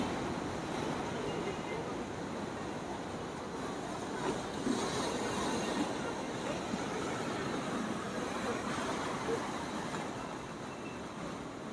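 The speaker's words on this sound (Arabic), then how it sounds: "طبعا في حركه للامواج لان في شويه ريح كده" Steady broadband wash of wind-driven sea waves at the rocky Corniche in Alexandria, Egypt, with gusting wind against the microphone, continuous and fairly loud throughout, no distinct voices.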